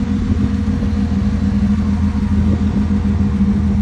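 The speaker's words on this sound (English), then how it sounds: "Obviously the vehicle is running." A 1982 Ford F100 step-side pickup with a rebuilt, unmodified engine runs at a steady idle, a continuous close low rumble with no voices.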